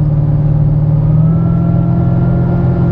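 A Chevrolet Camaro SS V8 tuned to about 600 hp rumbles loudly and up close, a thick, steady burbling drone with a slight swell in the middle and no speech over it.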